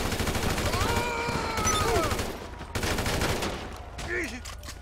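AK rifle fire in GTA V, a loud sustained burst of rapid automatic shots up front, then further shots and scattered game noise with faint voices.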